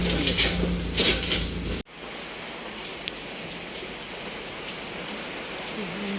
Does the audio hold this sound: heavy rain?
yes